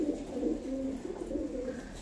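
Afghan pigeons coo close by in a soft, continuous low murmur, the throaty burbling rising and falling steadily with no talk over it.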